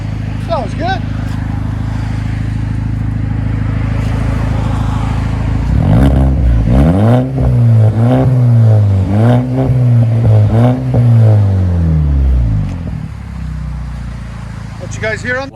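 A 2011 Audi A5 2.0 Quattro with straight-pipe exhaust idles with a steady drone, then revs loudly in a series of about four rising and falling blips. Brief talk is heard at the start.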